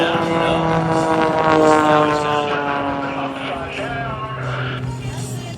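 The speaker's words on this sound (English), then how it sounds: "He's got to get the airplane flying again because he's not right now." Aerobatic airplane engine drone from a Navy Blue Angels air show at MCAS Miramar, a loud sustained propeller-like hum with shifting pitch as the aircraft recovers from a spin, mixed with faint crowd and commentary.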